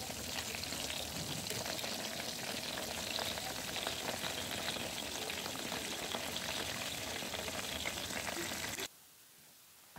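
Breaded chicken fries in a pan with a dense, steady sizzle and crackle of hot oil, loud and unbroken for several seconds before cutting off abruptly.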